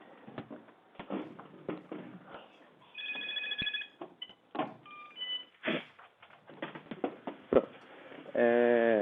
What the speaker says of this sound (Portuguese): deixa eu desligar esse telefone aqui